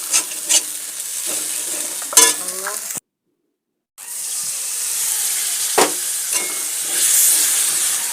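Turmeric and ground spices frying and being stirred in a pan for moong puli: steady close sizzle with scraping spatula strokes, briefly cut to silence, then the sizzling resumes and swells.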